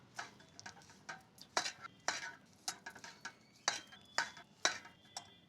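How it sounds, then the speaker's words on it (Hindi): Ground almonds and dry coconut powder stirred in a pan with the heat off, a quiet run of irregular scraping and clinking strokes from a spoon against metal, fairly close and with no voice over it. "इन सभी को हम अच्छे से मिक्स कर देंगे।"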